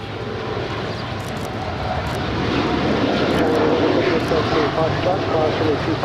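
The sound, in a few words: Air Tahiti Nui Boeing 787-9 Dreamliner rolling on runway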